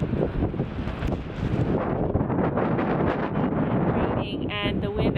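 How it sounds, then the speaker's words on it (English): Strong gusty wind blowing outdoors on a cold, spitting-rain day, roaring steadily and close against the microphone for the whole stretch, with no clear rain patter standing out. "it's windy and rainy"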